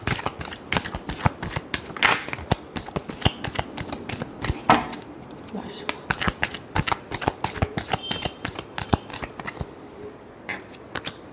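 A deck of tarot cards is shuffled by hand in quick, crisp riffling bursts of flicks and slaps, close and clear, repeating in uneven rhythm with no talking.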